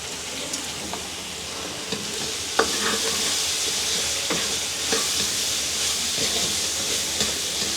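Curry leaves crackle and sizzle in hot oil, a dense steady hiss punctuated by sharp pops and spatters, close and continuous throughout.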